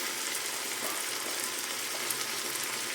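Fenugreek leaves frying in a pot for home-style biryani, a soft, steady sizzle with faint stirring and no talk.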